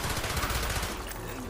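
Shotgun fire in Call of Duty Black Ops zombies on the Kino der Toten map, with dense, rapid gunfire bursts across the short clip, loud and close, continuing steadily before tapering toward the end.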